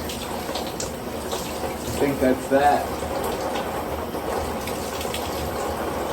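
A shower runs with a steady, even hiss of falling water that fills the whole stretch, and a voice speaks briefly over it.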